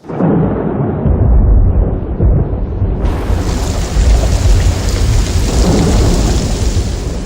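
Heavy monsoon rain pours steadily in a radio drama while loud thunder rumbles through the opening seconds, then the downpour hisses on alone, dense and close.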